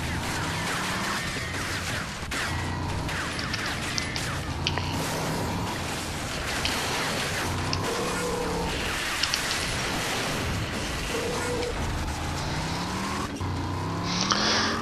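Cars race in the video game RAGE, engines revving and whining as the pitch rises and falls, with tyre squeals and scrapes from drifting mixed into a busy, continuous stream of driving noise.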